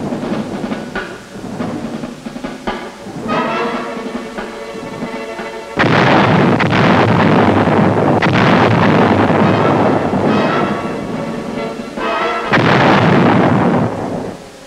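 Heavy artillery fire, loud booms and rolling rumbles repeated over about fifteen seconds, with dense, continuous noise between the blasts. There is no talking.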